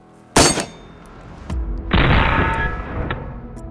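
A single sharp, loud rifle shot fired at a modern Russian 6B47 army helmet, a close crack followed by a second impact or bang and a lingering rumble, with no voices.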